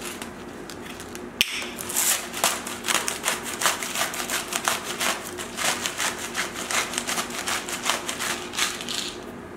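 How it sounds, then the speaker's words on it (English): Salt and pepper being rubbed and pressed into a salmon fillet by hand, a steady series of close, soft scraping and rubbing strokes with one sharp knock early on, no talking. "Now we very simply put salt and pepper on both sides."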